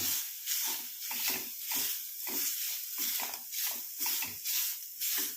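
Grated coconut frying in a pan gives a steady hissing sizzle that swells and fades in repeated bursts, like stirring, close and fairly loud with no talking.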